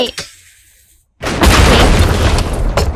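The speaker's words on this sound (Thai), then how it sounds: "โอ้โห ระเบิด ระเบิดด้วยนะคะคุณผู้ชม" An explosion in the video game Rec Room, a loud booming blast that erupts after a quiet pause and rumbles on, following brief fainter sounds at the start.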